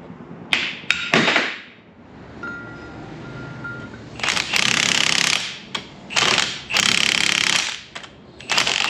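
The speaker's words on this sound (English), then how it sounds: "I'm gonna drill a hole in the diff housing." A power drill bores a hole into a truck's differential housing in short, loud bursts, with metallic clanks and ratcheting between runs and a quieter pause before several longer grinding passes.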